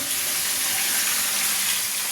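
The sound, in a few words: frying fresh rohu fish in a wok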